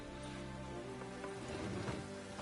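Rain in the video game The Witcher 3, a steady, dense hiss of falling rain with faint patter, constant and even throughout with no voices.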